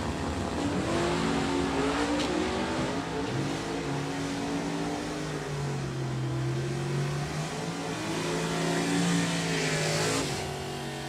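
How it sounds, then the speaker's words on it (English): Drag racing engines from an AA stock clutch car and a blue 2017 Camaro factory stock B roar loudly and steadily, revving with shifting pitch for about eleven seconds, with no voices. "as we quickly move in with Brett Sauerball in the AA stock clutch car"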